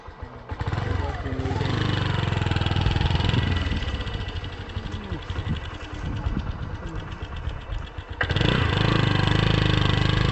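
A motorcycle engine runs loud and steady while riding along a road near Kashimpur, with a short dip in level before the engine noise surges back. Voices may be faintly present under the engine.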